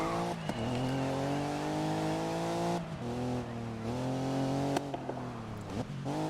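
Porsche race car in the racing game GRID (2019), a loud sustained engine drone with shifting pitch, gear changes and brief tire squeal as the car oversteers, close and continuous.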